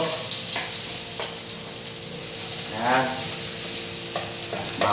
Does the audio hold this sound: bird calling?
no